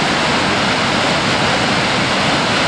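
Roaring rush of the Boulder River near Big Timber, Montana, surging back out of an underground passage below a cliff, a dense, loud, steady torrent heard close up with no voices.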